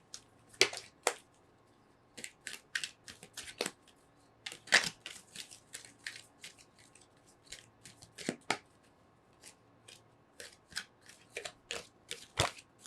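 Tea leaf oracle cards being shuffled by hand, a series of crisp, close riffling flicks and slaps in uneven bursts against a quiet room.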